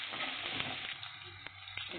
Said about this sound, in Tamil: கருவேப்பிலை ஆட் பண்ணி கிளறி விட்டுடலாம்.